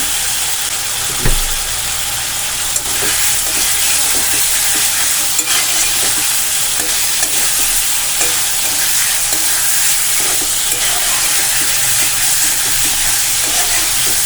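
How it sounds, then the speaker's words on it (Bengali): Paneer cubes are stirred and fried in a pan on medium flame for a pea paneer dish, with a steady loud sizzle and occasional scraping of the spoon, and no talking. "পনিরগুলো 2 মিনিট আমি নাড়াচাড়া করে নেব মিডিয়াম ফ্লেমে রেখে।"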